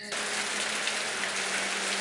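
Steady rain falls in the mystery game And Then There Were None, a light drizzle heard as a close, even hiss that starts abruptly and holds constant with no talk.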